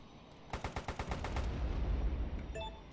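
Rapid burst of aircraft machine-gun fire in the combat flight game Airfix Dogfighter, about eight sharp evenly spaced shots close and loud over a low engine drone, followed by a brief metallic chime.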